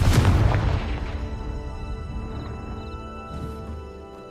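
A fire spell cast in Hogwarts Legacy bursts with a loud booming blast that fades into a crackling, ringing tail, with a softer second pop near the end.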